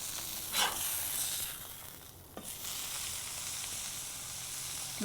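A burger patty sizzles steadily in a hot pan just after being flipped, a close, continuous frying hiss with a brief scrape partway through.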